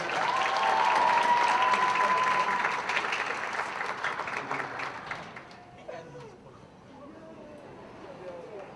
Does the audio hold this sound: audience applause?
yes